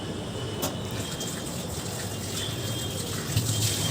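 Fish being washed under running water for a crispy fish fry, a steady gushing splash of tap water with a brief splashy burst early on, close and continuous with no talking.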